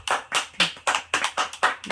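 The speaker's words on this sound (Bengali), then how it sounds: "হাততালি হাততালি।" Steady rhythmic hand clapping at a family birthday celebration, around eight even claps close by at moderate volume, with no talk over them.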